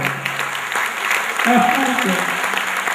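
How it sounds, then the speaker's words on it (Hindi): An audience claps at a tribute event, a continuous moderate wash of applause with voices and some melodic tones rising over it midway. "थोड़ी सी तालियां मैं इसमें भी चाहूँगा"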